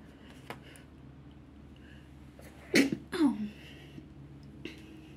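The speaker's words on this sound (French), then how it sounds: "J'arrête pas d'éternuer" A single sharp sneeze bursts out, followed by a brief throaty exhale, then quiet room tone with a couple of faint ticks.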